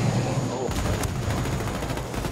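Heavy gunfire from a Ghost Recon Ghost War match on the Scrapyard map, a dense continuous rattle of shots and explosions filling the whole stretch, with game noise underneath.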